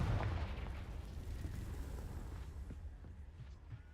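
A Confringo blasting spell explodes in Hogwarts Legacy with a deep, rumbling boom that fades over a few seconds, fairly quiet overall.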